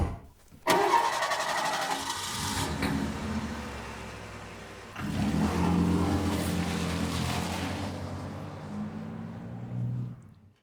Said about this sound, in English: Lamont and Margot get in their car and head to the nearby gypsy camp.